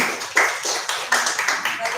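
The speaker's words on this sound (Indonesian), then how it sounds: "kita beri aplaus." Applause after a student group presentation in an online class meeting, a handful of irregular claps and taps in uneven bursts.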